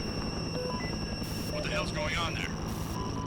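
Helicopter rotor drone in the alien-themed video game They Are Here, a steady low throbbing hum running under ambient game sounds and someone talking.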